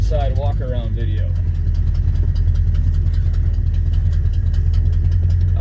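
A 1971 Ford F250 highboy engine idles with a steady, deep, even rumble close by, while someone talks briefly over it at the start.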